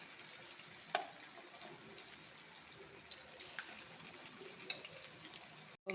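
Prawns fry in a pan over a medium flame with a faint, steady sizzling hiss and a few soft clinks scattered through it.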